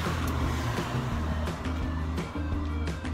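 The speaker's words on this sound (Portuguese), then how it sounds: "Que aqui passa carro." Car engines rumble close by on a busy street, a steady low drone with traffic noise passing throughout.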